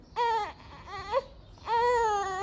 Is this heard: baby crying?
yes